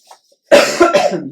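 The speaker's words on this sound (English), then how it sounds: "The coughing isn't gone completely." A person with a lingering illness coughs in a quick burst of several harsh coughs close to the microphone, after a brief faint sound and a moment of quiet.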